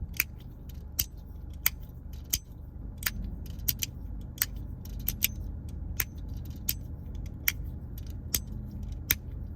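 Sharp, crisp little pops and clicks repeat at irregular intervals, close and fairly quiet over a soft background hum.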